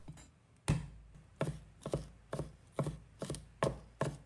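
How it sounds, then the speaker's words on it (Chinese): A knife chops smashed garlic cloves into a fine mince on a board, about eight firm, evenly spaced thuds, close and clear with no talking. "取1把大蒜，拍扁后剁成蒜末"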